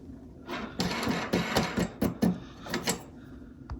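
Short clicking, ratcheting bursts of a hand tool tightening bolts during assembly of a Greenworks 40V cordless snowblower, close and irregular, several quick rattling strokes with brief pauses between them.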